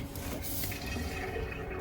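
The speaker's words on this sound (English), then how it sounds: "Just keep on flushing." A toilet is flushed to push through a clogged drain, with a steady close rush of swirling water that runs continuously for the whole moment.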